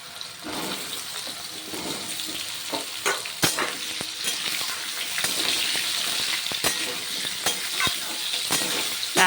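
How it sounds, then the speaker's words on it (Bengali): Sweet pumpkin pieces frying lightly in oil in a pan, a continuous hiss and sizzle broken by scattered clicks and scrapes as they are stirred around. "কুমড়োগুলো একটু হালকা ভেজে নেব তেলের মধ্যে।"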